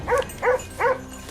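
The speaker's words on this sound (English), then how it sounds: "The chaotic barking of hunting dogs echoed across the empty field" Hunting dogs bark three times in an evenly spaced, moderately loud series of yelps across an open field near crops, with no other sounds between the barks.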